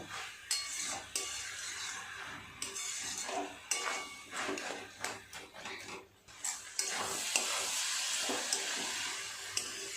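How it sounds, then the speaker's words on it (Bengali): Masala for chana paneer is sautéed in a pan, with a spoon repeatedly scraping and clattering against the metal over a close, continuous sizzle. The sound is uneven and busy, and no one speaks. "বেশ কিছুটা সময় নিয়ে সমস্ত কিছু এইভাবে কষিয়ে নিয়েছি"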